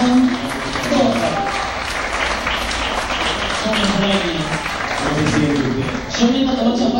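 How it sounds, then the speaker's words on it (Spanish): Audience applause on an Argentine variety show honoring glamorous women performers, sustained clapping mixed with crowd noise and overlapping voices throughout the seven seconds. "Pido un fuerte aplauso para estas divas"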